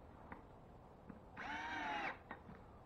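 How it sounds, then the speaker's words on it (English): A power drill drives a screw into wooden drywall backing in one short whirring burst, near and fairly quiet, with scattered light taps and clicks before and after. "go ahead and go put some screws in it"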